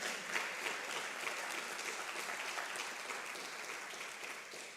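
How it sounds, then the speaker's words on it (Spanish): A church congregation applauds in steady, dense clapping that holds evenly throughout, with no voices standing out. "dale un aplauso al Señor por todo lo que Él es y todo lo que Él hace."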